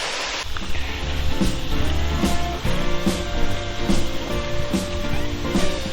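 Steady roar of rushing, falling water from a waterfall at Cheongpyeongsa temple in Chuncheon fills the scene, constant and broadband, with faint rhythmic mechanical thumps underneath.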